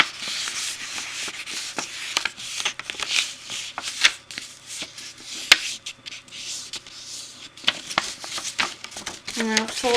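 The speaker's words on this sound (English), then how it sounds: "I'm going to fold it the other side as well." Paper being folded back and forth by hand, crisp rustling and creasing rubs coming in quick irregular bursts, close and fairly loud, with brief crackles between strokes.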